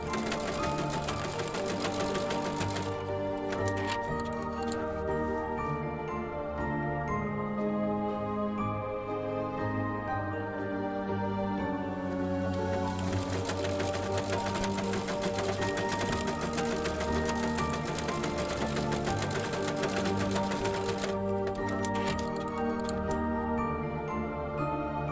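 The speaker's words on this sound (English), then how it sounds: "We will now run the embroidery design to completion." An embroidery machine stitching an in-the-hoop zipper pouch design, a steady fast mechanical whirring and rapid needle ticking that runs continuously for the whole stretch, with music playing underneath.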